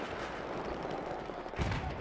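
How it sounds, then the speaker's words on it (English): Enemy gunfire in Battlefield 4 rattles as a steady, moderately loud burst of shots at mid distance, ending in a sharper, closer blast. "Now he's firing at me, trying to shoot at me."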